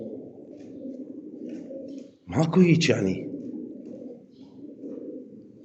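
Pigeons coo in a burst of low throaty calls lasting about a second mid-way, close by, while someone speaks over a murmur of background voices and bird sounds.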